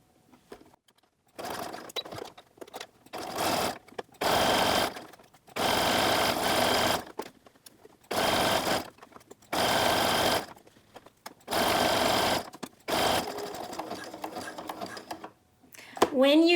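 A sewing machine zigzag-stitches an elastic casing on a bikini top in bursts of rapid mechanical chatter about a second long, separated by pauses with quiet handling noise and occasional talk.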